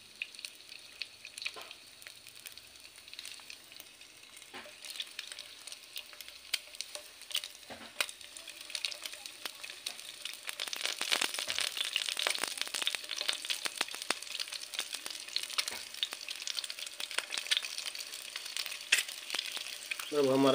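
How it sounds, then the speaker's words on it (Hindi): Eggs fry in hot oil in a pan at home, giving a steady crackling sizzle that grows denser and louder through the second half, with sharp pops and a scrape or stir near the end. "हमारा अंडा हो रहा है फ्राई।"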